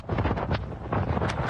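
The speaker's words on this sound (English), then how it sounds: "With straight-line wind gusts of up to 70 miles per hour," Strong straight-line storm wind gusting at up to 70 miles per hour, a loud, continuous roar of buffeting wind that swells and dips in rough surges against the microphone.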